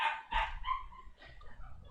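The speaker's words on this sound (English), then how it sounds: "It's probably a loud bark from our dog." A dog lets out a few sharp barks and yips in quick succession indoors, faint in the background, followed by softer whimpering noises.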